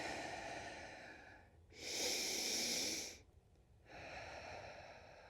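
Slow, audible breaths during a yoga flow: a sustained breathy exhale, a louder, hissing inhale lasting over a second, then another long exhale, close and quiet with no talking.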